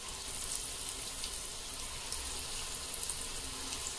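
Raw potato pakoras fry in hot oil over a high flame, giving a steady, moderately faint hiss and crackle of sizzling throughout with no talking.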